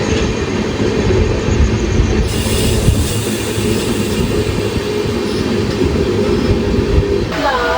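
An Antyodaya Express train with all general-class coaches rolls steadily along the rails in Kerala with a constant loud rumble and rattle, a brief wheel squeal near the end.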